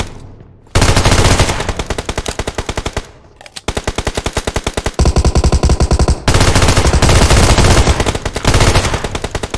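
Rapid automatic gunfire in PUBG Mobile, long loud bursts of closely spaced shots broken by brief gaps, each burst hammering at a fast steady rate with a ringing tail, close and dominant with no other sound.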